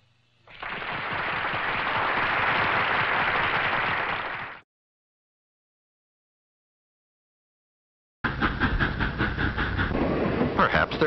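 A steady broadband rumble of a train running on rails, loud and continuous for about four seconds, then silence, then a rhythmic clattering run of wheels resumes to the end.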